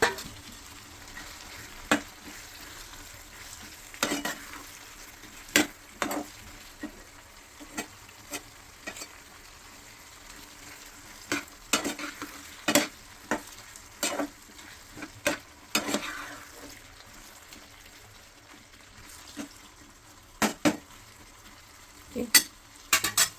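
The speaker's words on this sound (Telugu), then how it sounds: "ఇప్పుడు చిక్కుడుకాయ కూడా వేసేస్తున్నానండి." Broad beans cook in a pan with tomato curry, giving a steady low sizzle broken by frequent sharp scrapes and taps from stirring, close by and without talk.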